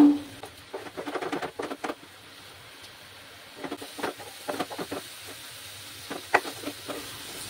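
Carrot laddu mixture frying and being stirred in a pan, with soft patters, clicks and scraping bursts in two clusters over a faint steady background.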